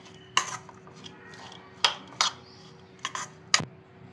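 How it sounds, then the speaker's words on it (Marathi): A spoon clinks and scrapes in a bowl while sandwich stuffing of vegetables, cheese, chili flakes and salt is mixed, several sharp, close taps spaced irregularly over a quiet background. "आता आपण हे मिक्स करून घेऊया।"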